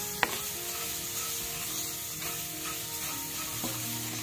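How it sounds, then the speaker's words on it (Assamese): Hair oil ingredients frying in a pan, a soft steady sizzle with occasional faint stirring scrapes and a sharp tap at the start. "আমি অলপ সময় ভাজি ল'ম।"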